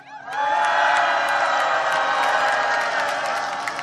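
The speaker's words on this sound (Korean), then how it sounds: "서로를 위해서 한번 함성과 박수 주실까요?" A large candlelight rally crowd in Korea cheers and applauds, a loud sustained roar of voices with scattered clapping that carries on for several seconds.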